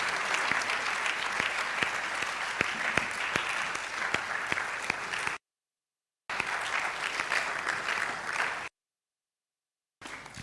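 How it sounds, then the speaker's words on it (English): An audience at a public lecture of the Ghana College of Physicians and Surgeons gives a sustained round of applause, dense even clapping from a crowd heard in two bursts separated by silent gaps, with no talk over it. "A sounding round of applause for our speaker."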